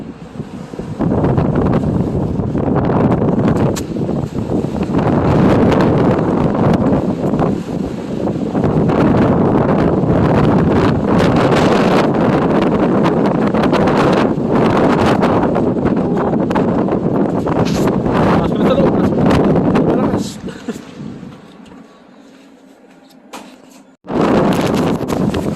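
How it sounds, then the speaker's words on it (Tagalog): Strong wind in a snowstorm roars loudly and continuously against the microphone for about twenty seconds, then briefly drops to a quieter gust before surging again, with no voices. "Malakas pa ng hangin."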